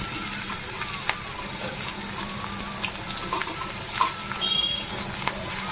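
Green chillies and onion sizzle in a pan with potatoes already fried in salt and turmeric. The steady hiss comes with light scraping and occasional clinks of stirring, close and even throughout.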